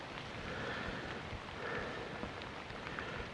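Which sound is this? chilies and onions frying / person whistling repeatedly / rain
rain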